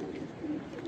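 A golden pigeon coos softly, a short low murmuring call with no other sounds around it.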